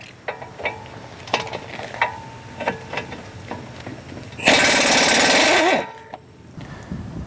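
Nut coming off a Honda Accord lower control arm (2013-2017 model), a 19 mm nut: a series of short, sharp clicking ratchet or tool knocks, then a loud sustained burst of a power tool spinning for over a second, close by with no talk.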